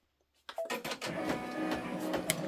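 A 10-needle embroidery machine starts up after a brief quiet moment and begins stitching an applique design, its needle mechanism clattering in a fast, steady rhythm close by.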